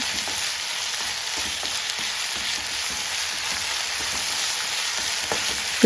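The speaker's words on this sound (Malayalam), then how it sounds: "ചെറിയുള്ളി കട്ട് ചെയ്ത് രണ്ട് പച്ചമുളക് കട്ട് ചെയ്ത് മൂന്ന് വറ്റൽമുളക് നമ്മുടെ മത്തിക്ക് ആവശ്യമുള്ള കറിവേപ്പില ഒരു സ്പൂൺ ഇഞ്ചി ചെറുതായി കട്ട് ചെയ്തത് എല്ലാം കൂടെ നമുക്ക് നന്നായിട്ട് ഇളക്കി കൊടുക്കാം" Chopped shallots, green and dried red chilies, curry leaves and ginger fry and get stirred in a pan of oil for a sardine curry, a steady broadband sizzle with soft spoon scrapes throughout, close and continuous with no talking.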